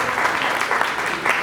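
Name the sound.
audience applause for a colleague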